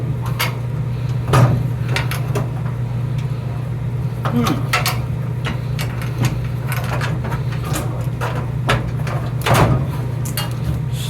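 Metal drawers on a rolling tool chest sliding open and shut, a series of short scraping rolls and clunks spaced a few seconds apart over a steady low hum, close by.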